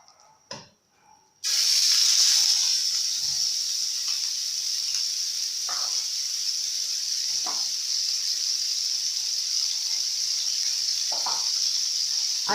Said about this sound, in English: I'll first fry the minced meat.